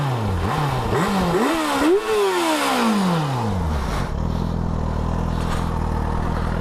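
A Yamaha FZ6 motorcycle engine with stock exhaust revs up and down several times in quick bursts, then settles into a steady, rumbling idle. Loud and close, no talking.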